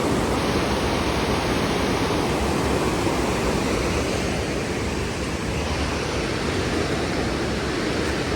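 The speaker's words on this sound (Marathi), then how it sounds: "बाजूनेच एक नदी वाहते." A monsoon river rushing beside the path to Shri Hanuman temple at Marleshwar, a steady, loud, unbroken roar of flowing water with no voices.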